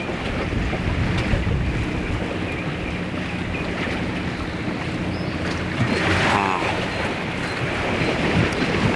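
A gentle breeze off the ocean in the Cayman Islands buffets the microphone with steady low rumbling wind noise, over a soft wash of surf, for the whole stretch.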